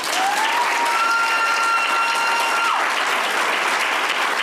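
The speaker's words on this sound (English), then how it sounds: "Now give a round of applause and a congratulations to the spring cohort of 2023." Sustained applause from a graduation ceremony audience fills the room, a steady wash of many hands clapping at moderate distance, with a faint tonal ring and no talk over it.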